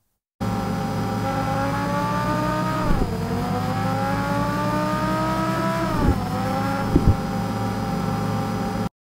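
Designed engine sound for a car accelerating, with a loud continuous engine note that climbs steadily in pitch, drops at each of two gear changes, then climbs again, with brief thumps near the end.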